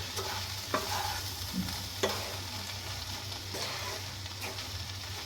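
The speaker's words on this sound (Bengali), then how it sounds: "সুজিটা দিয়ে নিয়ে একবার সবজির সঙ্গে ভালো করে" Roasted semolina stirred with vegetables in a pan over a low flame makes a soft, even sizzle, with a few distinct spoon knocks and scrapes against the pan. No one speaks.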